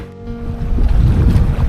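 A paddled sailboat crosses serious chop during the Everglades Challenge, with waves sloshing and slapping close against the hull over a steady wash of wind and water that grows louder partway through.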